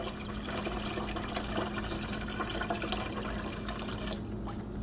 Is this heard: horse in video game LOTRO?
no